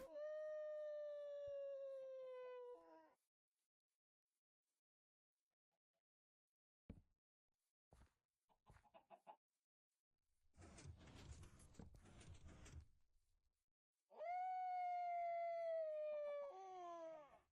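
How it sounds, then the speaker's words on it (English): Wolves howling in the Minecraft video game: a long, wavering howl, then a quiet gap with a few brief clicks and a burst of noise, and another sustained howl rising at the end. "Wolves, why are you so noisy tonight?"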